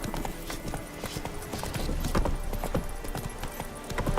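Horse hooves gallop in quick, rhythmic clip-clops across the ground in the Witcher 3 video game, a steady close drumming with a brief snort or whinny mixed in.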